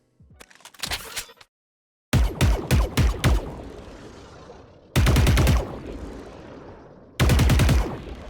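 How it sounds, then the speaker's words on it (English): Holo Meridian Vandal rifle from Valorant firing in several rapid automatic bursts, loud and close, with a short single-shot flurry first, then longer sustained volleys separated by brief silences. "the Vandal sounds like a laser"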